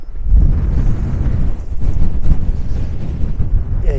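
Strong wind on Striding Edge buffets the microphone in a continuous, loud, gusty roar with low rumbling throughout and no voices.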